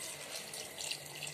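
Water poured into rice for soybean pulao, a short, soft splashing pour close by, fairly faint and steady.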